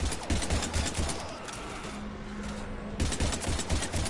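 Rapid gunfire aimed at Husks in a video game, dense bursts of shots dominating the start and end with a quieter lull in the middle where a steady hum sits under scattered sounds.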